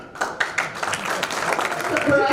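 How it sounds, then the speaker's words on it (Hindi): An audience claps at a business project's grand launch event, a burst of scattered hand claps building into sustained applause, with voices over it. "तालियां नहीं बजनी चाहिए ना?"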